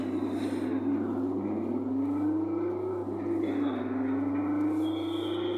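A coin-operated kiddie ride's electric motor runs steadily at an amusement spot, giving a constant low hum with a tone that slowly rises and dips, close and continuous with no talking.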